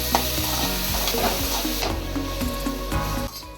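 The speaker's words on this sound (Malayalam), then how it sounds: "ഇത് നന്നായി വഴറ്റി വരുന്നതുവരെ ലോ ഫ്ലെയിമിൽ ഇളക്കിക്കൊണ്ടിരിക്കുക." Chopped ginger and onion sauté on a low flame for a prawn masala, with a close bright sizzle under repeated rhythmic scraping and clacking of a spoon stirring in the pan.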